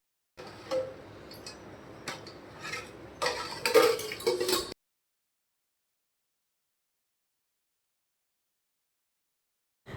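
Ugadi pachadi with freshly added neem flowers being stirred in a home kitchen: a few seconds of scraping and clinking utensil strokes, growing busier toward the end, then stopping into silence.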